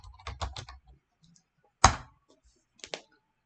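A computer keyboard clicks close up in a short burst of quick keystrokes, then after a pause a single louder key press, and a final pair of taps.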